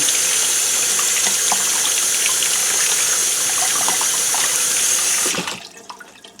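Water from a sink faucet splashes steadily onto foam LARP swords, close and loud, then cuts off abruptly near the end, leaving faint drips.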